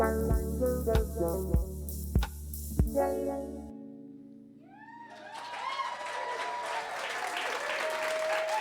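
A live audience at a Bushwick Book Club music night, themed on Charlotte's Web, breaks into applause as a song's final chords ring out and cut off; the clapping then swells and holds steady, filling the room.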